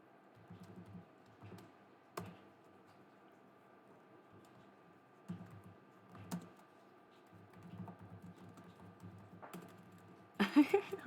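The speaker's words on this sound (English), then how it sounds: "why am I typing instead of talking?" Keyboard typing in short bursts of rapid clicks separated by pauses, fairly close and quiet, with a louder clatter of keys near the end and no talking.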